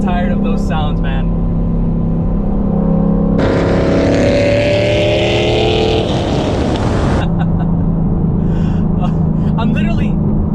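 Chevrolet Camaro SS V8 with headers and straight-pipe exhaust, idling with a deep burble before a loud, sustained rev that climbs and roars for several seconds, then drops back to a rumbling idle, with someone talking over it.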